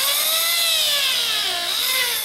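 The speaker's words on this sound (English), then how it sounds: "Get your drill bit in far enough and then use that straight over." A drill bit cuts a deadbolt strike plate recess into a door frame, giving a loud, sustained, high-pitched whine that wavers slightly in pitch for a couple of seconds, with no talking.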